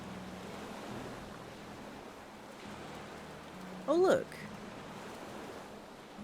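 Soft surf washes onto a beach in the Spirit of the North 2 video game, a low continuous rolling hiss under a brief spoken remark and a short bright tonal call near the middle.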